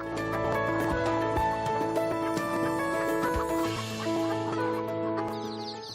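Chickens clucking and calling inside a coop, a dense overlapping chorus of fowl voices that stays loud and close throughout, with no talk.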